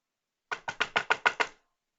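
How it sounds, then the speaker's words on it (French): Seven quick, firm knocks on a door in a steady rapid run, close and loud, stopping after about a second with no voices. "Je tambourinai à la porte."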